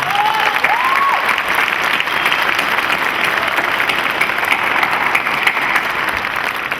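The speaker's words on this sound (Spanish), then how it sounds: "Les pido un fuerte aplauso para todos ellos" Audience applause at a business conference on entrepreneurship in Mexico, a loud continuous wash of many hands clapping that stays steady throughout, with faint whistles or voices near the start.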